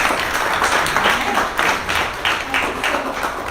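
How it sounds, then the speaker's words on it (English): A small audience at a community business pitch meetup claps for a presenter, with individual hand claps audible in an uneven rhythm at moderate volume. "Let's give her a round of applause."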